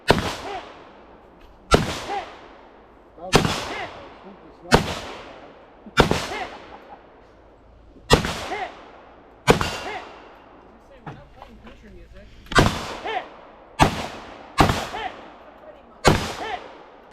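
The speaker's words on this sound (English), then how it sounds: "You had to shoot targets on one side, shoot targets on the other side, then run down this hill." Single AK rifle shots crack out one at a time at an outdoor shooting competition stage, loud and close, each report ringing and decaying before the next, fired at an uneven pace with short gaps.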